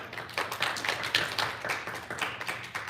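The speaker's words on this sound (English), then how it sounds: "Round of applause." An audience claps at a grade 5 spelling bee after a round ends, a steady patter of many hands at moderate volume with no voices over it.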